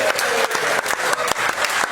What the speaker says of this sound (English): You wanted just a small clap?